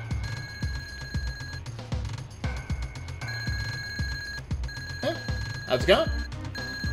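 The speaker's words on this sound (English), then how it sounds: "I guess he's sounding the alarm for Smithy" Alarm in the video game Super Mario RPG: a repeating electronic ringing tone with steady beeps and thumping pulses, looping loudly while a person talks briefly over it.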